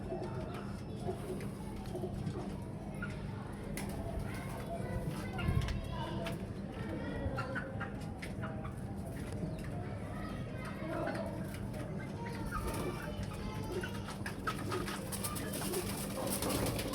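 Hino breed pigeons coo softly in the background amid a busy, noisy setting with people talking nearby.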